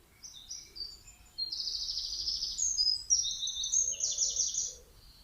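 Songbirds trill and chirp in bright overlapping phrases, a lively chorus that builds after a quiet start and fades near the end, clear and fairly close with no voices.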